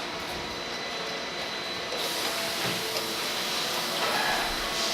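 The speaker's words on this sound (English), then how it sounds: "here it's tightening the gland onto the body and into the stem" A semi-automated ball valve assembly machine tightens a gland onto the valve body and stem, giving a steady mechanical whir and hiss over constant factory noise.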